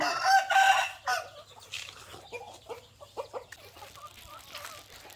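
Early-morning rural scene where a rooster crows loudly close by, then chickens cluck in short irregular bursts over a steady low hum.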